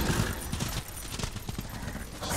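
Horse hooves clip-clop in a quick, steady rhythm, close and continuous, with no talking, from the video game Darksiders.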